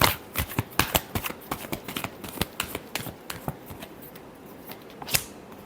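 Tarot cards being shuffled in a series of sharp riffling snaps and flutters, close and crisp, with no talking.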